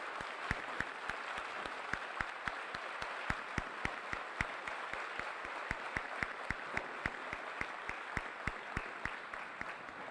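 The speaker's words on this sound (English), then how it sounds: "Let's give them a round of applause." Audience applause at an Army basic combat training graduation ceremony at Fort Jackson: sustained crowd clapping at moderate distance, with sharp individual claps standing out steadily throughout, with no talking over it.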